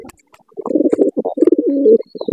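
Pigeons coo close by in low, throaty, rolling bursts, with a few faint clicks and rustles between the calls.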